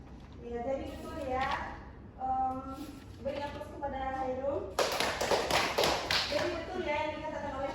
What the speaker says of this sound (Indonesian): Beri aplaus kepada Hairul